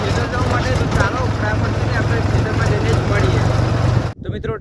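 Farm tractor with a dantari tiller attached, engine droning steadily while driving out to the field, loud and continuous with wind buffeting, cutting off abruptly near the end.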